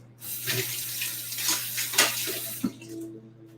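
A kitchen tap runs in a steady stream as hands are washed after cutting open a jackfruit, a soft, close splashing that lasts throughout.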